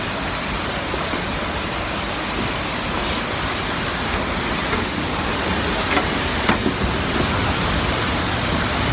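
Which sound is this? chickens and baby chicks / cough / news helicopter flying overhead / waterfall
waterfall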